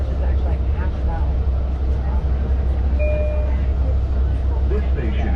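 A Long Island Rail Road C3 train rides the Greenport Branch with a loud, steady rumble of wheels and carriage noise filling the cabin, and a brief tone sounds partway through.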